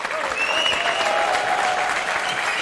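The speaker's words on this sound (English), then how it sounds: "So I give you a round of applause on that." An audience breaks into a dense, steady round of applause, with clapping filling the room from start to end and some voices faintly audible underneath.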